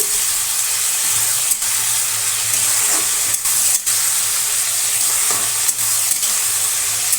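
Small fish frying in a pan with turmeric and salt, a loud continuous sizzle and hiss close up, with a few brief scraping stirs breaking through; no voices.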